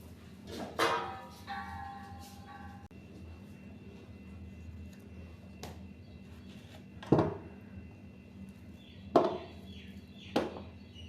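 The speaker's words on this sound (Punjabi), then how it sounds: "ਹੁਣ ਆਪਾਂ ਇਹਨਾਂ ਨੂੰ ਕੱਟ ਕਰਕੇ ਇਹਨਾਂ ਵਾਸ਼ ਕਰ ਲਾਂਗੇ" A knife chops through homegrown guavas in a few sharp, well-spaced strikes, one near the start and three toward the end, against a quiet, low background.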